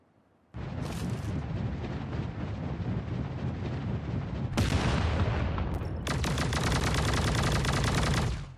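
Gunfire in the shooter video game Sausage Man, bursts of rapid automatic fire and heavy blasts continuing almost without a break, loud and close, with no talk.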